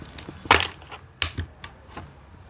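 Tarot cards being turned upright and handled on a table, a few distinct sharp taps and slides at uneven intervals, close and fairly clear, with no talking.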